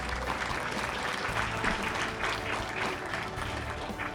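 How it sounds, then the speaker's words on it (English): Audience applause at a county sheriff candidate forum in Blue Earth County, a steady wash of many hands clapping from a seated crowd, moderately loud and sustained throughout, with no talking over it. "Please join me in a round of applause for both of them for joining us."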